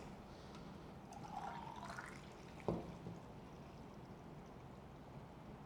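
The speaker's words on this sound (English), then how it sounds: "So just pour in as fast as you can. I'm using a funnel just to speed up the process." Film developer poured quickly through a funnel into a developing tank, a soft liquid gurgle rising over a few seconds with a single clunk midway, quiet and close.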